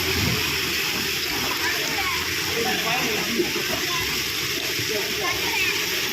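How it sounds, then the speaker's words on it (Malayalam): People jumping and swimming in a natural swimming pool at Kilinakkode, heard as a constant broad wash of splashing and churning water with a busy background murmur and no distinct single splashes. "കുറേ ആൾക്കാർ ചാടുമുണ്ട് കുറേ ആൾക്കാർ നീന്തുമുണ്ട്"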